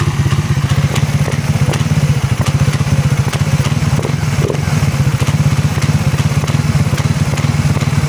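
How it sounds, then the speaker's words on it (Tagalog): A Raider 150 FI motorcycle engine with a broken balancer damper runs close and loud, its steady rapid firing pulse carrying a rattling clatter as the throttle is worked, with no talk over it. "So yan yung sirang balancer damper."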